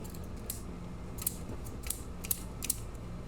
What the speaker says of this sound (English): Come on, that's just my scissors.